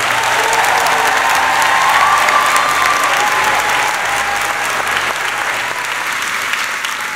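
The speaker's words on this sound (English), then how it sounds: "please join me in welcoming her with loud applause to the podium" A large audience claps loudly and continuously to welcome the speaker at a college convocation, with a few faint cheers mixed into the steady wash of applause. No one speaks.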